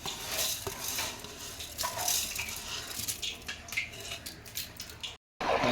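Biryani rice being stirred in a large cooking pot for a charity food offering, with repeated scraping and clinking of the utensil against the pot over a steady background hiss, broken by a short silence near the end.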